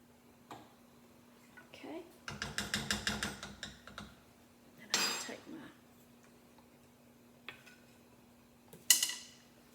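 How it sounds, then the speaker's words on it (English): A whisk beats a sugar milk mixture in a pan for caramel pie, a quick run of rapid metallic clinks against the pan followed by a few separate scrapes and taps, under a steady low hum. "Whisk."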